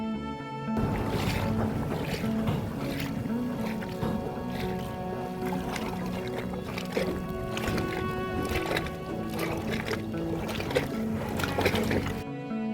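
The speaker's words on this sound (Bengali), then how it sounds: "জলের ঝলকানির শব্দটা একবার শুনুন।" Tidal water splashing and lapping close beside a wooden boat in a remote Sundarbans creek at high tide, a steady continuous wash with soft irregular slaps throughout, no talking.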